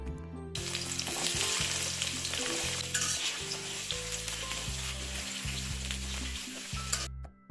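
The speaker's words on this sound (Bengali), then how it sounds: "একটা কড়াইতে সরিষার তেল দিয়ে দিলাম তার মধ্যে দিয়ে দিব কাটা পটলগুলা" Cut pointed gourd fries in mustard oil in a wok, a loud, continuous close-up sizzle heard alone over a steady low background hum with rhythmic breaks, and no speech.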